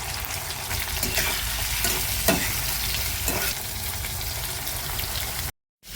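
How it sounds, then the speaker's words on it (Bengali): Prawns rubbed with salt and turmeric frying in hot oil in a wok give a loud, steady sizzle with scattered crackles and pops, ending abruptly. "তেল হয়ে গেছে, এবার মাছটা দিয়ে দিলাম"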